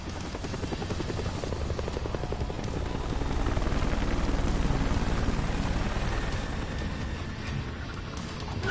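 Helicopter in the fighting video game Tekken 8, its rotor chopping in a fast steady pulse, growing louder mid-way then easing, continuous with no talk.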